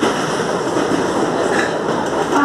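SuperVia commuter train arriving at Maracanã station in Rio, a steady loud rumble of wheels on rails with clickety-clack, heard from inside the carriage without talk.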